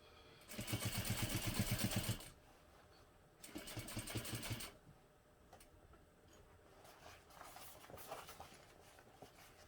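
A sewing machine stitches through a hobo bag sewn as a tube, with two bursts of rapid, steady mechanical whirring and a quieter stretch of soft handling noise between them, close and fairly quiet.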